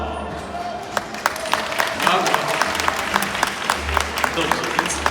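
Spectators at an indoor horse show applaud a cavalry section, with sharp individual claps standing out over a steady crowd patter and a voice speaking through it.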